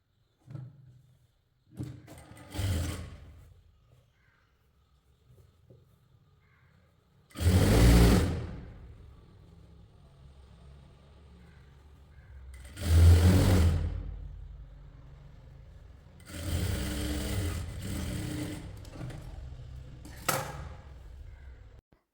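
A sewing machine stitching kurti fabric, running in several short bursts of whirring a second or two long, separated by quiet stretches with faint handling noises.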